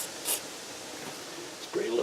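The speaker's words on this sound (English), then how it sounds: "spray a little on there." Rust penetrant is sprayed on a classic Mustang 8-inch rear axle during oil seal replacement, a quick close hiss burst near the start, followed by quieter rustling and a voice at the end.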